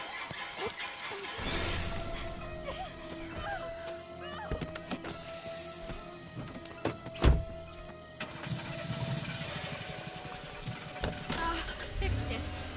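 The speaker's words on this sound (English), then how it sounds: "Get the car running." A car engine in the video game Friday the 13th cranks and struggles to start amid clattering and a sharp crash, quiet and uneven, with scattered thumps and background noise.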